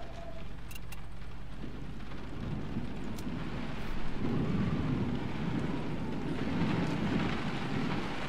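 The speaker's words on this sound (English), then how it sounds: "Hear that rain?" Rain falls in the Generation Zero game world, a steady low rushing hiss with wind, building slightly midway and continuing evenly throughout, with no voices.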